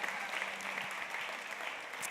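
Audience applause in a festival hall during the live Femme Fatale 2017 show, a sustained, even wash of clapping from a large crowd, heard at a moderate distance and fairly faint.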